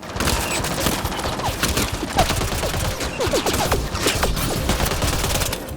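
Sustained rapid gunfire from a Mass Effect Andromeda combat scene on planet Eos, a dense, loud, continuous volley of shots lasting throughout.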